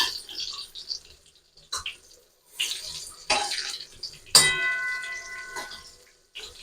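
Sliced pointed gourd (potol) is turned over as it fries in a wok, making intermittent sizzling hisses and sharp metallic clanks from the utensil. The bursts are irregular, with quiet gaps between them and one louder scrape near the middle.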